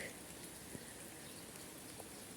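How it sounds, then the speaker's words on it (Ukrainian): Light spring rain falls in a garden, a soft, steady patter and hiss with a few faint individual drops, quiet and even throughout. "Нехай цей дощик буде мирний для всіх."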